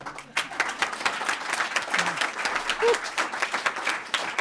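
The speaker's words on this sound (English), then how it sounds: "get an applause if you want" Steady applause at a school board meeting, many hands clapping together continuously for a swim and dive team, with a few scattered voices faintly underneath.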